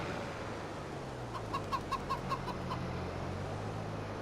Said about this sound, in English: the chickens on the yard. Makes it much more lively.